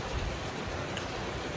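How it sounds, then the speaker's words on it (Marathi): Rain begins falling in Mumbai, a faint, steady broadband hiss of drops with no clear pauses and no talking. "आत्ता पाऊस चालू झाला"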